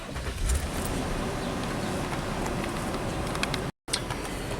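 Nissan car being driven on the road, heard from inside as a steady broadband rumble of road and engine noise at an even level throughout, briefly cutting out near the end.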